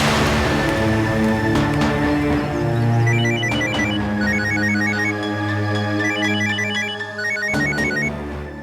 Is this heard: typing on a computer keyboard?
no